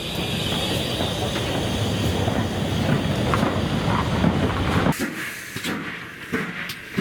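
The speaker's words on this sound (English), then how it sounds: "the first train to arrive at Cheltenham Racecourse was hauled by number 7903 Fomark Hall" Steam locomotive number 7903 Foremarke Hall hauls a train into Cheltenham Racecourse at a spring gala, a steady broad rumble heavy with wind buffeting that drops away abruptly partway through, leaving quieter scattered clanks.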